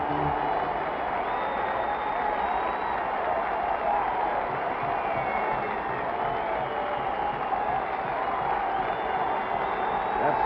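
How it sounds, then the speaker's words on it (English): A packed Madison Square Garden arena crowd roars and applauds Willis Reed at the 1970 NBA Finals Game 7, a dense, sustained wall of clapping and cheering heard through a thin, old broadcast. "That's the type of applause that has been reserved for boxers like Sugar Ray Robinson in the old garden"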